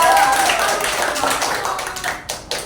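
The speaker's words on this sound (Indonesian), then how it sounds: "Oke, tepuk tangan kepada Rika." Students in a classroom give a round of applause, a dense, close patter of many hands clapping that gradually thins out, with a few sharper claps near the end.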